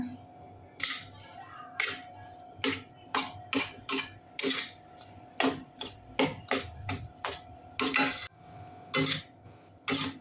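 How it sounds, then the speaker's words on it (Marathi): Besan roasting in ghee in a pan is stirred with a spoon, producing a run of loud, close, rhythmic scraping strokes and knocks against the pan over a low background hum. "अजून आपल्याला याला तूप सोडेपर्यंत भाजून घ्यायचं आहे"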